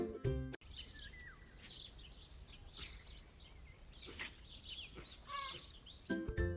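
Asian paradise flycatcher, also called sultana bulbul, singing a series of bright chirps and short whistled notes, steady and fairly near, with no other voices around.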